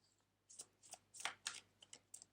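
Tarot cards are shuffled and drawn in a quick run of crisp, close riffling bursts, about seven papery flutters with no talking.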